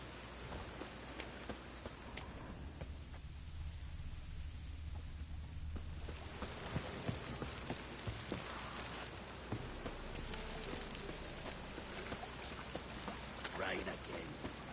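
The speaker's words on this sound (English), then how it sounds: "Rain again." Rainfall in the video game Witcher 3 in Novigrad, a soft steady wash of drops that thickens after a few seconds and stays faint and even throughout.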